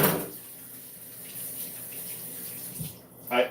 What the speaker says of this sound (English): always wash my hands after I touch any food